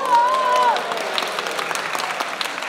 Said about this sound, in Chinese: 要不要此处给我们点掌声呀？